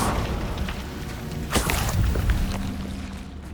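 In Hogwarts Legacy, a Confringo explosion spell lands with a sharp burst around the middle of the clip amid ongoing rumbling combat noise, followed by a lingering low hum.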